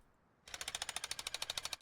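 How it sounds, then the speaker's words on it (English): A jackhammer skin in the video game Rust starts after a short silence and fires a fast, even burst of about sixteen sharp mechanical hammer blows, loud and close, with no voice. "Lovely looking jackhammer."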